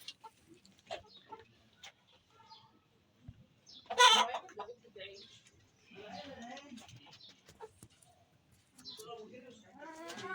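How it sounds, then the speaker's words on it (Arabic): Backyard chickens and a large rooster kept by a grandmother cluck in short, scattered bursts near and far, with one louder squawk standing out, while people talk quietly in between. "شايفين الفراخ؟ حبيبتي بتحب تربي الفراخ."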